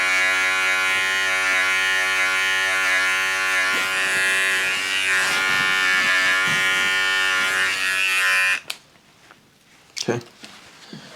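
Electric hair clippers with no guard buzz loudly and steadily while cutting hair during a buzz cut with ice pick taper, then switch off abruptly near the end, leaving faint handling noises.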